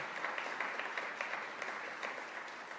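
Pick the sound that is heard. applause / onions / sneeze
applause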